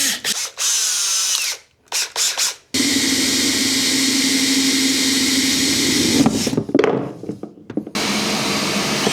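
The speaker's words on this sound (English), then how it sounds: "Going to use that 28mm hole saw bit to drill a hole inside of this Black Pack Pro." Power drill with a 28mm hole saw bit cuts into a plastic Black Pack Pro battery case, loud close whining bursts that start and stop before a long sustained grinding run, then more short stop-start pulses.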